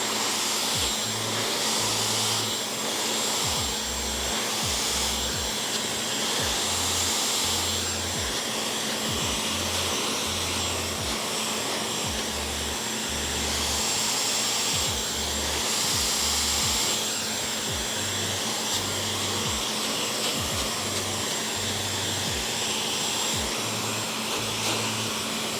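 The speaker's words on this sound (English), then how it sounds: "grab a section of the hair and blow dry upwards" A hair dryer blows steadily and loudly at close range for the whole stretch while a barber blow-dries a section of thick hair upward with a brush, its whooshing airflow constant with slight surges and no talking.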